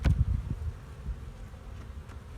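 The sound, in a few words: wasp buzzing during beehive inspection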